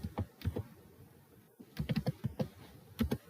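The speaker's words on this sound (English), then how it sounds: "So then type here Crello" Clusters of keystrokes on a computer keyboard, short uneven bursts of close, crisp clicks separated by a brief pause, with no talking.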